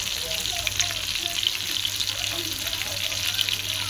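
Fish fries in a hot pan with a continuous, close, bright sizzle and crackle that holds steady throughout, with a faint murmur of voices underneath.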